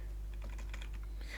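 Fast typing on a computer keyboard while setting up Alpine Linux with Plasma, a quick run of close, crisp key clicks over steady background hum, with no talk.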